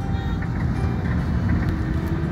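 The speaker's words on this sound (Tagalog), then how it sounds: "Alright, may kunting traffic dito ngayon." Road traffic rumbles along the Thika Superhighway, a steady loud low engine and tyre drone from cars and trucks with no break.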